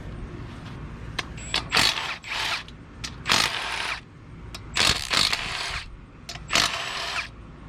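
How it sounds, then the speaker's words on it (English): Ratchet or impact tool removing bolts from the rear end center section of a 1988 LS-swapped Firebird, repeated short clattering ratchet bursts close by with brief pauses between, no talk over it. "So we're gonna pull these 4 bolts and slide this whole thing out of here."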